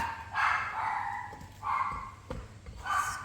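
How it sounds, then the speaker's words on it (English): Dogs barking in a home during cookie baking, several sharp yapping barks in quick bursts with gaps between, fairly close and loud against a quiet room. "Don't know what my dogs are barking at."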